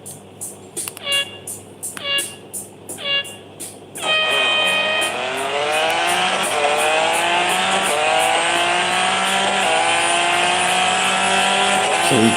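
Racing cars in EA Real Racing 3 rev through a few short bursts, then one engine screams upward in a long, loud, rising sweep of acceleration with rising gear whine, no talk.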